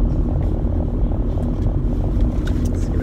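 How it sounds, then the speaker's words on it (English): A moving car gives a steady low road rumble and engine drone heard from inside, with faint rustles and knocks over the top. "I'm gonna wait till the car stops moving."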